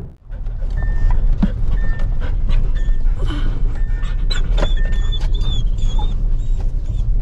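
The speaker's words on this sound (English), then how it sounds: "Oh, pretty dogs." Dogs pant quickly and rhythmically close by inside a vehicle on a rough washboard road, with engine rumble and occasional whimpers and high whines.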